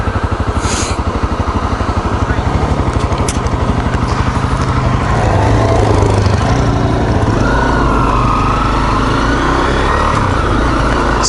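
A two-stroke ATV engine drones loudly and close while riding a trail, with a fast buzzing putter that rises and falls as the throttle changes.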